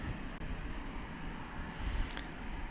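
A Frontier Airlines jet passes over a bridge near DFW Airport at night, giving a faint, steady engine hum with a rising whine partway through.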